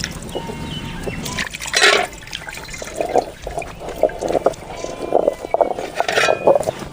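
Water is poured into a cooking pot while gooseberry (amla) pickle is being made, giving a sloshing, splashing pour with a couple of louder bursts over a few seconds.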